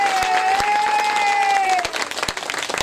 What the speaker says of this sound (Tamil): பஜனை எப்படி இருந்தது அப்படிங்கிறத உங்களோட கைத்தட்டு மூலமா தெரிவிக்கணும்